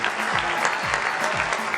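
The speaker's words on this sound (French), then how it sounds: "applaudissements pour Evelyne, s'il vous plaît" A studio audience applauds on a live broadcast for a caller named Evelyne: brief, steady clapping, fairly loud and close, while a voice talks over it.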